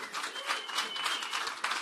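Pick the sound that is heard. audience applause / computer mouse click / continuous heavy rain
audience applause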